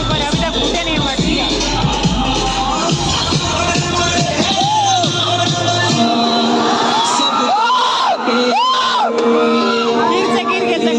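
A dense crowd at a Janmashtami matki-breaking celebration cheers, whoops and shouts loudly and continuously, with drums and music pounding underneath and a person talking nearby.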